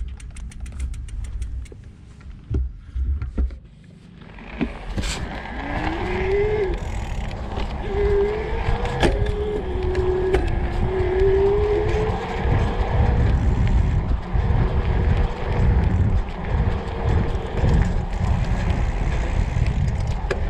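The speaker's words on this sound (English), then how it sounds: "I just want you to be able to hear the motor and see how quickly it responds." A Bulls E-Stream EVO AM 3 27.5+ e-bike motor whines on a concrete surface, its pitch rising and falling as it responds, under steady rolling and wind noise and a few clunks near the start.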